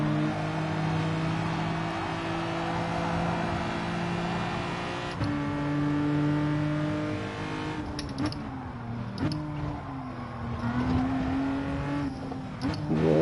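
Racing video game cars drive with a loud, continuous engine drone and shifting revs, pitch rising and falling as they jostle, with brief roughness near the end.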